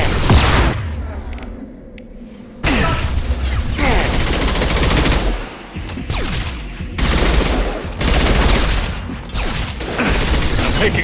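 Sustained gunfire in the video game Mass Effect 2 at a loading dock, dense bursts of shots and booms that drop away briefly and then resume loud and continuous.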